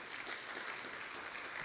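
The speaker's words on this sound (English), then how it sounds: "I think that is deserving of a round of applause." Workshop audience applauding in a hall, a steady wash of many hands clapping, fairly distant and quiet, alone without talk for under two seconds.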